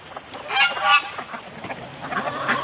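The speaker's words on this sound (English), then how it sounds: "And all the geese are out again." Geese honk repeatedly nearby, a cluster of loud calls followed by quieter, scattered honking.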